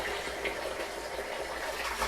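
Hot water runs steadily from a newly plumbed tap into a tank being filled for sugar syrup, a continuous close gush with no pauses and no talking.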